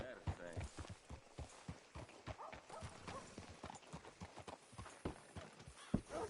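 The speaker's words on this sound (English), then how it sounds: "Hitch your horse up here." Horse hooves clip-clop in a video game, a steady walking rhythm of sharp knocks that runs the whole time, close and clear, with voices talking over them.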